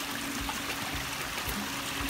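Water rushing through a narrow eroded stone gorge, a continuous broadband wash of flowing water heard steadily and fairly close, with no talking.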